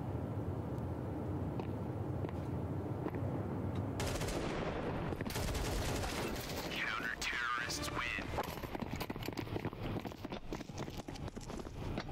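AK rifle fire in Counter-Strike 2 on the Nuke map, heard as quiet, rapid bursts of automatic shots within continuous in-game ambience.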